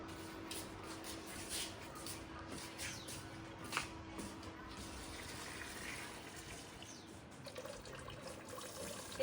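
Running tap water splashing steadily in a sink while dishes are washed by hand in a Punjab household, a faint continuous trickle with occasional soft clinks.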